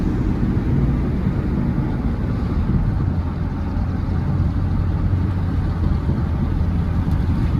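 A truck driving along a road, a steady loud engine drone with rumbling road noise throughout, no talking.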